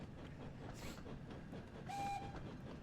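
A video-game train runs on rails with a steady low rumble and rhythmic rolling clatter, and a brief high tone near the end. It is fairly faint and has no speech over it.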